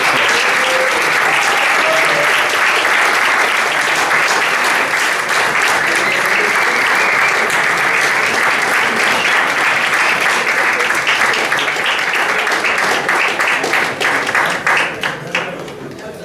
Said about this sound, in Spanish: yo voy a pedir a la comisión organizadora que suba acá, que le dé un fuerte aplauso